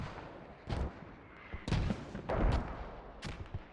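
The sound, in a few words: enemy mortar fire in video game Squad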